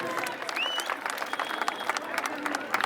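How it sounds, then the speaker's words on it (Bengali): Moderate applause rings out for the Balurghat College NCC team at a prize ceremony, a steady patter of many hands with a brief whistle-like tone early, heard from a modest distance. "আবার জোরদার করতালি হয়ে যাক বালুরঘাট কলেজ এনসিসি টিমের জন্য।"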